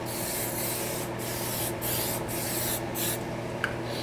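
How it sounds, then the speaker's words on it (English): Static guard aerosol sprayed around a model RC car body during painting, heard as a steady, close hissing spray that runs almost continuously with several brief pauses. "You can take the static guard, spray it in the area."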